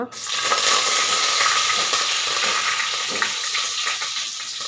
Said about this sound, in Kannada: ಎಣ್ಣೆ ಚೆನ್ನಾಗಿ ಕಾದಿರಬೇಕು, ಆವಾಗ ಸಾಸಿವೆ ಸಿಡಿಯುತ್ತೆ.